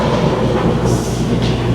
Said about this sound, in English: this Furrion 15K BTU AC, kicking butt here by the way, and keeping it cold, this thing is freaking loud